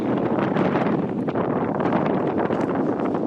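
Strong wind buffeting the microphone on a mountain hiking trail, a loud continuous roaring rush with gusty fluctuations and no talking.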